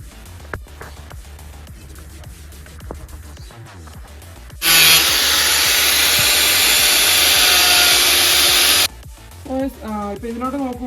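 A power tool cuts a fork mudguard part for a modified Hero Splendor motorcycle, giving one loud, steady high-pitched whine of about four seconds, close up, with quieter handling sounds and speech before and after.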